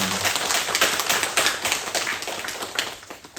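A church congregation applauds at a Korean Thanksgiving harvest service, giving a continuous, dense burst of many hands clapping at once that stays steady and loud throughout.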